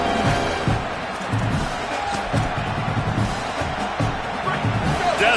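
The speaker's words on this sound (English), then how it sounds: "Decibels rising as the crowd gets behind this defense on third down" Stadium crowd in a college football video game against Michigan roars and cheers steadily on a third-down defensive play, a dense, continuous wall of noise with rising swells throughout.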